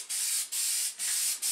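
An aerosol paint can, a One Hit Wonder spray, fires four loud, close hissing bursts in a regular on-off rhythm with short gaps between them, and no voices are heard.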